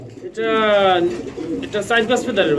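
Pigeons on a farm, fancy breeds in chocolate and yellow colours, coo with a close, rolling, repeated call while someone talks over them.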